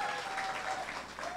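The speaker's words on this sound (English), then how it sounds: "So a big round of applause for you for doing that." An audience applauds in a steady wash of clapping, fairly loud and continuous for its short length, with faint voices mixed underneath.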